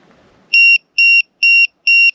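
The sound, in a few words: LiPo battery low-voltage alarm buzzer beeping on RC car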